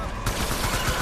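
Gunfire bursts out in the video game Death Stranding as a short, dense volley of rapid shots crackling over a sustained noisy roar, loud and close.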